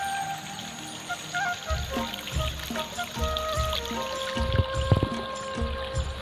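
Water pours and trickles steadily, with a louder rushing burst partway through, heard nearby without any talking, as rainwater flows downhill after heavy rain and landslides.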